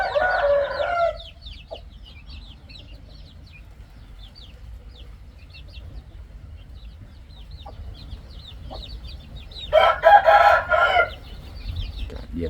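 Young Yellow Gypsy-line gamecock chicks and hens in a coop, with loud clucking bursts at the start and again near the end and soft scattered peeps between over a low background hum.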